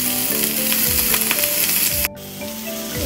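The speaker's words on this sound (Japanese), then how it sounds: "だし汁100に、酒大さじ2、みりん大さじ2、お醤油大さじ1を煮立たせています" A pot of dashi with sake, mirin and soy sauce bubbles at a steady, loud simmer, with a dense continuous hiss that drops abruptly in level partway through.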